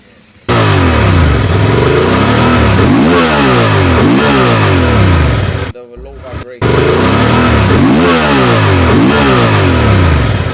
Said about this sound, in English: The Tenere stock exhaust sounds much better.